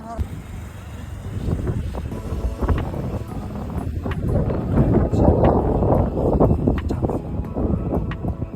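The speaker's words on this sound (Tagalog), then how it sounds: "Kaso lang medyo mahangin." Wind gusting across a mountain summit in Yamanashi, Japan, a steady roaring rumble that buffets the microphone throughout, with people talking underneath.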